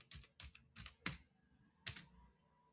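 Fingers tap out short bursts of keystrokes on a computer keyboard, a few quick clicks in clusters with pauses between, quiet and close, no speech.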